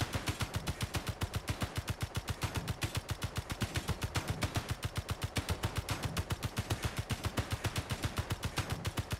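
Sustained automatic gunfire in the video game Space Engineers, a rapid, even stream of loud sharp shots firing without pause throughout, with no talking.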